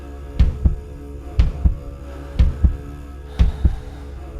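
A heartbeat thumps in a slow, steady lub-dub rhythm, four double beats booming low and close over a dark hum.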